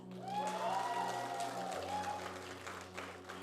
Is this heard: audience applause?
yes